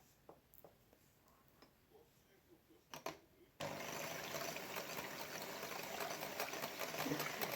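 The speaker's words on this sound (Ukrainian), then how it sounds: "Я користуюся міксером." An electric hand mixer beats eggs for a poured pie batter. The motor switches on partway through and then whirs steadily and loudly to the end, after quieter kitchen knocks and clinks.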